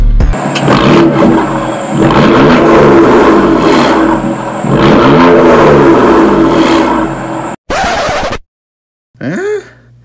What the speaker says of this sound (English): With all this power, it's gotta have a loud exhaust,